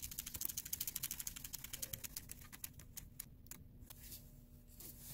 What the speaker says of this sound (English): just make sure the hose is all the way on and then just tighten it up.